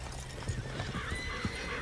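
A horse in Red Dead Redemption 2 clip-clops with a few hoofbeats and gives a short whinny, close and fairly quiet against a dense game background.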